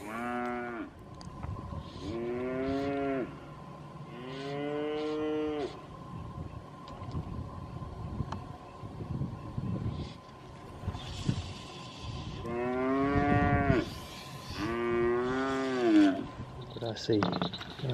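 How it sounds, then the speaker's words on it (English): Cows moo repeatedly, with several long, loud, drawn-out calls coming in bursts near a pond while fishing, over outdoor background noise and occasional faint voices. "They were just waiting for the cows to come up here."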